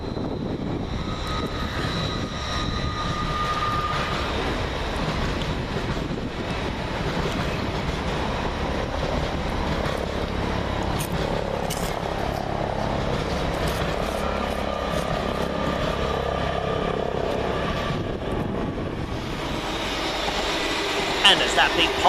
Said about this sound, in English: 802304 passes, working 1 Alpha 93 from Hull to London King's Cross.